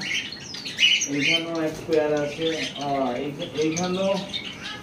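High-pitched squawks from several pairs of cockatiels ring out near the start, then a person talks while faint bird calls continue in the background.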